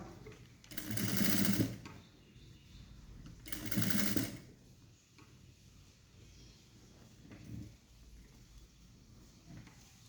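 A sewing machine stitches a folded quarter-inch blouse hem in two loud bursts of about a second each, then runs softer and intermittently with quiet gaps between.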